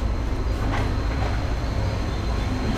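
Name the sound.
Nazirhat local train running around a curve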